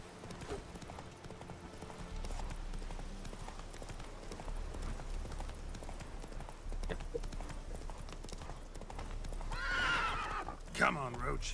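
Roach the horse in The Witcher 3 trots with continuous clip-clopping hooves under a low rumble, then gives a loud neigh near the end, with someone talking quietly over part of it.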